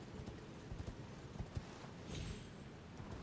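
A horse's hooves in Elden Ring, faint clip-clopping steps at an uneven walking pace beneath a soft ambient background.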